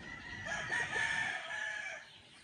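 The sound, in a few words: white kelso rooster crowing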